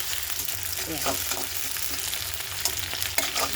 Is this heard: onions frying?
yes